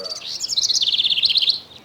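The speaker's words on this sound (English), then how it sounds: "That bird's going crazy." A bird in the Russian Fishing Simulator video game chirps in a rapid, bright run of high, evenly spaced tweets, loud and close, that trails off at the end.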